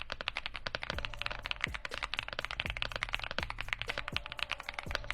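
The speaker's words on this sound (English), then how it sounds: "Let's do a sound test." Typing on a YUNZII AL66 65% keyboard with an aluminum case and Black Sesame switches, fast, close, even keystrokes in a steady clacking stream with occasional deeper thocks, no talking.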